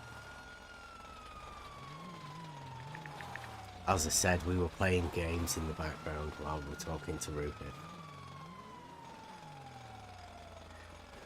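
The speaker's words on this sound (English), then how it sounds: "If you can hear sirens." A video game police siren wails up and down steadily while someone talks over it and a burst of rapid mechanical clatter sounds in the middle.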